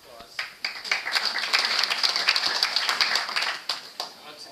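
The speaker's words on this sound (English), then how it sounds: "I think you all deserve a round of applause." Audience applause at an evening Hanukkah event, a steady burst of many hands clapping at moderate volume that builds quickly, holds for about three seconds, then thins out into a few scattered claps.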